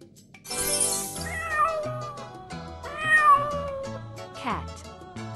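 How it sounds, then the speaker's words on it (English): A cat meowing several times in drawn-out, wavering calls, clear and fairly loud, in a children's animal puzzle with cheerful background music. "Cat."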